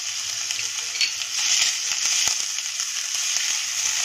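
Ginger and garlic paste sizzling in hot ghee for a finger millet soup, a loud continuous bright hiss with faint crackles and a few soft knocks, close up and without talking.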